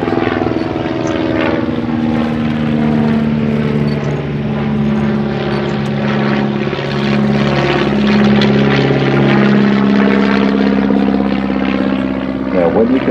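Bücker Jungmann biplane flying a slow roll in an aerobatic display, its propeller engine droning steadily and loudly throughout, pitch rising and falling as the aircraft maneuvers overhead.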